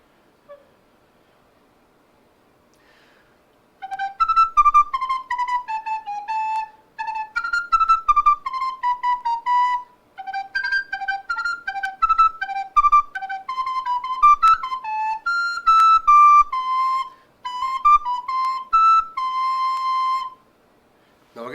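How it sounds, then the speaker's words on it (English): A Yamaha soprano recorder plays a triple-tonguing exercise: fast, crisply articulated runs of repeated notes in several phrases separated by short breaks, clear and solo after a few quiet seconds. "I actually play different exercises with my triple tonguing"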